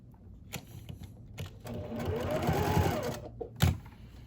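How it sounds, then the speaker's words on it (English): Sewing machine stitching down a fabric face mask with a head elastic, a close whirring run of rapid needle pulses lasting a couple of seconds between quieter handling clicks. "I will go back in with my machine and stitch down and over"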